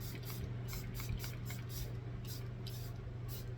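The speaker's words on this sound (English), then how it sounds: "Let's do one more spray. I'm going to use my Charlotte Tilbury Flawless Setting Spray." Charlotte Tilbury Flawless Setting Spray hisses from a pump bottle in a rapid series of short, close bursts, about ten quick sprays onto a face.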